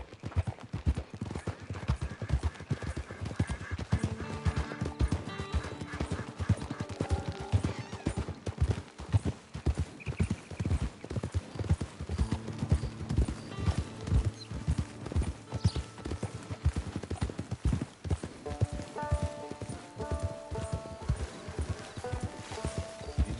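Horse hooves clip-clop steadily on the ground in a video game, a continuous rhythmic trot carried along under game music and ambient sound throughout.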